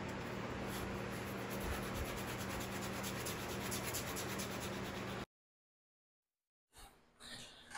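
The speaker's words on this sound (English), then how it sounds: "We're still sanding." Hand sanding of a 1962 Ford Falcon body panel with 80 grit paper: dense, continuous scratchy rubbing up close for about five seconds, then a gap of silence and a brief softer return.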